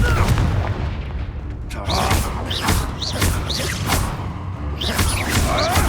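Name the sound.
Confringo blasting curse exploding in Hogwarts Legacy video game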